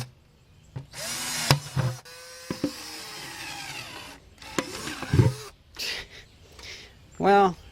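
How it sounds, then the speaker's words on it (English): A power drill boring holes through the bottoms of plastic buckets in a back yard, sounding in several short loud whining bursts with pauses, handling clatter and a rising whir near the end. "I'm going to go ahead and drill some holes in the bottom of them."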